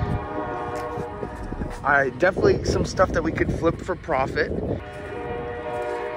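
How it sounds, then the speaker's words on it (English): A train horn blares loudly and steadily near an outdoor flea market, sounding throughout with someone talking over the middle of it. "That train's going bonks right now."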